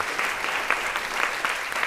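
Applause from a concert audience at a live song performance, a dense, steady wash of many hands clapping together, close and continuous throughout.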